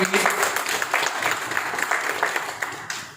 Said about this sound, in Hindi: जोरदार ताली होगी मैडम।